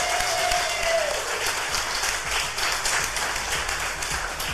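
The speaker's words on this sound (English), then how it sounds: "Everybody, can we give them a round of applause?" An audience bursts into sustained applause for a food truck crew in Omaha, a steady wash of many hands clapping at moderate distance with no voices over it.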